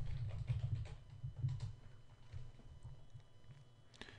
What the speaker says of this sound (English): Then I'm going to type in, again, Clear Lake, Van Buren.